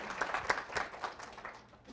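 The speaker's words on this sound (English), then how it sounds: "She gets applause." Audience applause greets a woman as she takes the stage at a talk, a steady patter of many hands with a few louder bursts, fading slightly toward the end.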